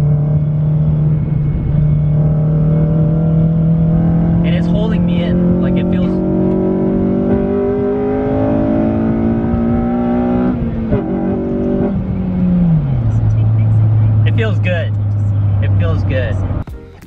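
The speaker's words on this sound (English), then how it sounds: "I'm gonna take this corner pretty quick." Inside a car taking a corner quickly, the engine drones loudly and steadily, its pitch climbing as it revs, then dropping sharply after a gear change; someone talks over the engine noise throughout.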